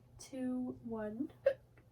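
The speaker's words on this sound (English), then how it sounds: "sorry, the hiccups" A single hiccup bursts out from a speaker partway through a chemistry lesson on limiting reagents, a short voiced catch close to the microphone, heard alone.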